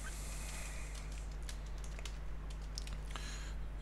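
Keys tapped on a computer keyboard while writing Swift code, faint scattered clicks in an uneven rhythm over a steady low electrical hum.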